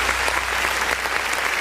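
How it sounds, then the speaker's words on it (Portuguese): A church congregation claps during worship, giving a brief, dense burst of many hands with a fairly regular beat and a low hum underneath. "e as palmas engrandecem o nome de Jesus"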